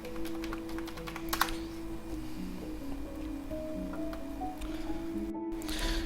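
Username and password typed on a computer keyboard, a quiet, rapid run of key clicks with a few sharper taps, heard close over a low room hum.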